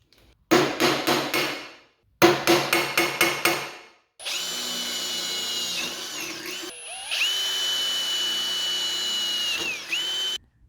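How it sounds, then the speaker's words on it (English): A drill bores holes in the metal frame of a DeWalt DWE7491RS table saw. It opens with two rapid clattering bursts, then settles into a long, sustained whine that shifts pitch and briefly breaks off, all close up. "Now I'm going to go ahead and drill the holes in the frame for the other attachment points."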